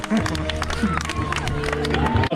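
A crowd at the Polish MTB cross-country championships applauding and cheering, with steady clapping and scattered voices throughout, fairly close and continuous.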